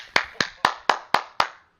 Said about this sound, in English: Let's just give Sony a hand clap.